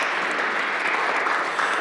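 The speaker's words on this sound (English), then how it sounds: "Dr. Mark Salling and Mr. Kent Whitley, if we get them a round of applause." A burst of applause from a crowd at a city council meeting, steady clapping filling the whole moment without pause.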